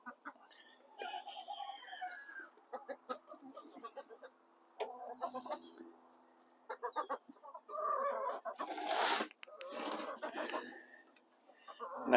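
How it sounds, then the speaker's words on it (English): Chickens cluck and chatter softly nearby in irregular bursts, with a few louder squawks and rustling toward the end. "I've got two of Kim's chickens in here helping me out"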